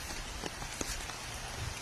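Steady rain falls onto a surface outdoors, a dense continuous patter with scattered closer drips, moderately loud and without voices.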